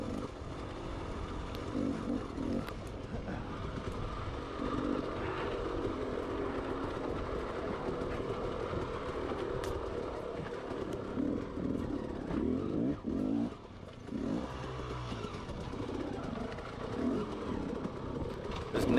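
Enduro dirt bike ridden hard through a time trial lap at Wolwekloof, its engine droning steadily and close throughout, with rough rumbling and brief dips as the rider works around obstacles.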